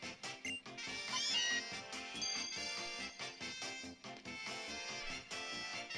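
An Alolan Meowth from Pokemon Sun gives a synthesized, catlike cry, rising and wavering over a bright, busy music backdrop that keeps going throughout.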